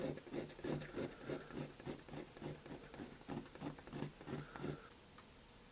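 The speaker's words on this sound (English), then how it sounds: "I'm just going to take some of this off with a file until we get down to the point where we can sand." A metal file rasps across an uneven casting in quick, rhythmic back-and-forth strokes, about a dozen close, quiet passes that stop abruptly.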